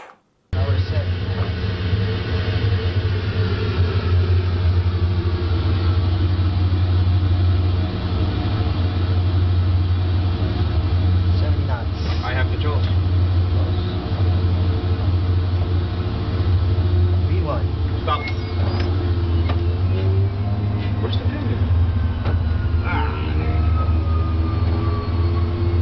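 An ATR-72 turboprop flight simulator during the takeoff roll gives a loud, steady engine drone with a deep rumbling hum, holding constant for about 25 seconds.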